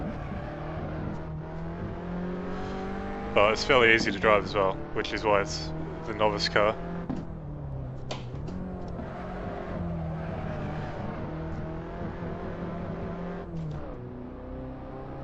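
Engine note of a Shelby Cobra race car lapping Spa in Assetto Corsa, a steady drone that climbs and drops with gear changes and revs, under near-constant talking.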